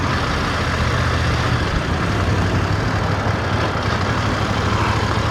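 A 2026 BMW F900 GS Adventure motorcycle engine runs in second gear below 2000 rpm. A steady, loud, low rumble with a coarse, knocking texture continues unbroken, with no talk over it.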